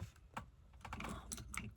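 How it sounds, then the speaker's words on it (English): Clicky keyboard keys pressed one after another in quick, irregular taps, close and quiet in an ASMR setting with fidget and sensory toys, with no talking. "Let's do some clicky keyboards."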